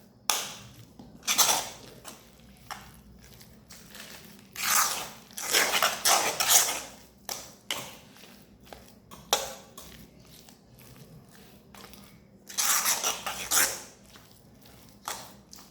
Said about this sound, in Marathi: अशा पद्धतीने सगळं मिक्स करायचं।